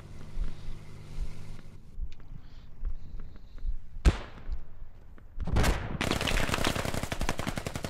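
Gunfire in the Squad video game during a Russian forces versus Militia battle: scattered shots and a sharp crack give way to a loud, dense run of rapid automatic fire that continues to the end.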